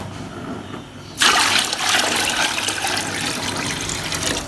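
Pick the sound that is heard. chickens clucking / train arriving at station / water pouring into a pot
water pouring into a pot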